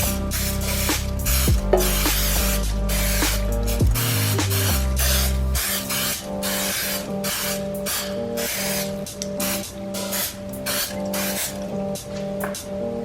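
A can of cooking spray hisses steadily while greasing a 9 by 5 inch loaf pan for pumpkin bread, a close continuous spray that comes in several bursts, with faint clinks and no talking.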